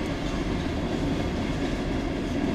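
A long CSX freight train with hopper cars rolls past close by, a steady loud rumble of wheels with faint rhythmic clicking over the rail joints and no voices.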